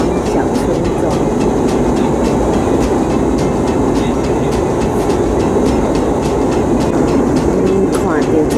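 A train on the Trans-Siberian Railway near Ulan-Ude in Siberia gives a steady, loud rolling rumble with faint clicking of wheels over rail joints, continuing without a break.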